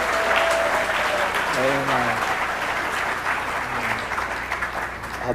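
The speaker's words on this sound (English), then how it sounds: "Everybody here, we should get that a round of applause." A crowd applauds at Montgomery College's 2024 spring closing meeting, honoring the staff, part-time faculty and full-time faculty of the year award winners. The dense, steady clapping runs throughout, with a voice speaking over it.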